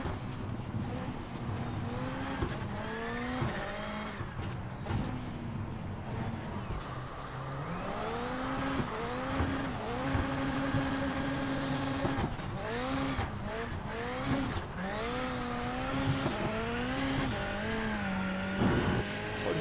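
Ford Fiesta rallycross car in the iRacing game, its engine revving and rising in pitch as the wheels spin, loud and steady throughout with someone talking over it.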